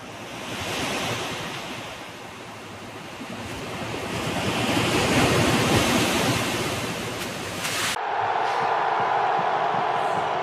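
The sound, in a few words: ocean waves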